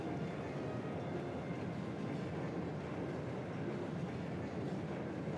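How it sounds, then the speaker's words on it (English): A high-speed military train, the Crusader, rumbles along its tracks in the video game Trails of Cold Steel II, a steady dense roar of wheels and carriages, quiet and continuous with no voices. "Railway Military Police, high-speed train,"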